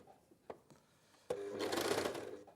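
A domestic sewing machine stitches over a thicker seam, starting after a few faint clicks and then running as a steady, close mechanical whirr that lasts about a second.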